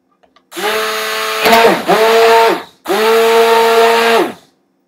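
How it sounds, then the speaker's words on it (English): A stick blender churning homemade laundry soap runs in three loud, close bursts, the motor note dipping and surging as it works through the mixture, with brief pauses between runs. "then you burp your stick blender"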